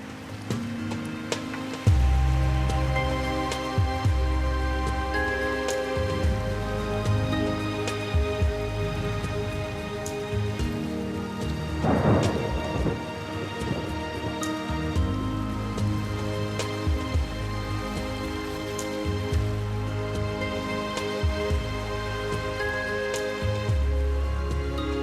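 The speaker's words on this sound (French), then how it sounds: "L'orage est toujours la promesse d'un peu de fraîcheur." A thunderstorm with heavy rain in the Bissagos Islands of West Africa: a dense, steady downpour hisses throughout, with a brief swelling surge near the middle and no voices.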